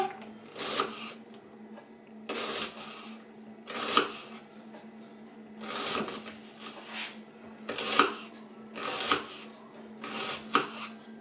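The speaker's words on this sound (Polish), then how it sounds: "Cieniutko kroimy cebulkę." Knife chopping onion quarters into thin slices on a board for a zucchini and cucumber salad, sharp chops sounding in separate bursts about every two seconds, close and clear with no talk.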